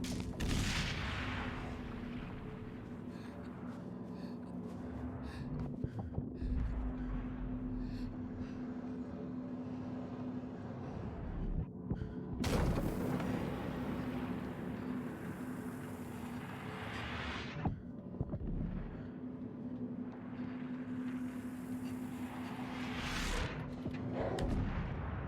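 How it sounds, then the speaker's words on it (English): Shockwave blasts in the video game Inside: repeated heavy booming blasts over a steady low hum, with sudden loud bursts around the middle and later in the stretch, no talking. "so that was blasted by a shockwave"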